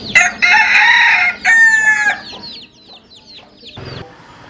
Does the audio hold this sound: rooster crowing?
yes